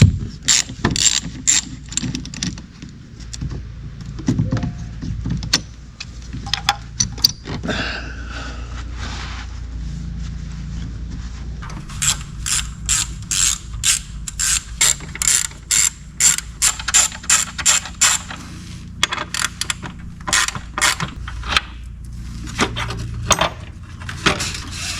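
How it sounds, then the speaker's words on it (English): A ratchet wrench fitted with an 8mm deep socket clicks in quick repeated bursts, close and loud, while loosening a cover bolt on a RAM 6.7 liter Cummins engine, with short pauses between runs of ratcheting. "we'll remove the cover using an 8mm deep wrench socket."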